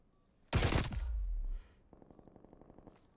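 Call of Duty Cold War gunfire in a match: a loud, sharp burst of rapid shots rings out, then a quieter run of rhythmic clicks and taps.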